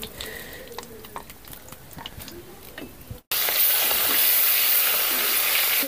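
Fish frying in a pan of oil: a soft, crackly sizzle with scattered pops, then a sudden loud, steady hissing roar for the last few seconds, close up.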